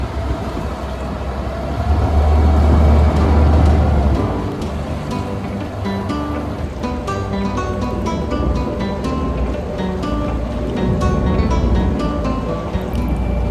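An amphibious car floats and drives through water, a constant low engine rumble mixed with splashing and sloshing water that swells early and then holds steady, close by.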